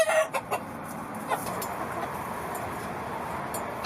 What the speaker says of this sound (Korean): 구사일생 목숨을 구한 닭은 9마리.